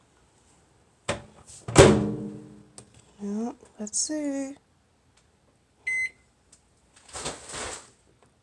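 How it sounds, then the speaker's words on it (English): A microwave oven door thunks shut and the keypad beeps a few times before the oven starts, while a person speaks briefly between the mechanical sounds. "Into the microwave we go."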